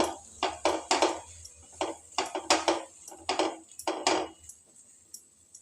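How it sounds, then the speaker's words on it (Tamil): A spoon scrapes and knocks against a pan of baby corn manchurian with soy sauce in quick irregular bursts, clattering strokes of stirring with short pauses between. "சேர்த்துட்டு நல்லா கலந்து விடுங்க"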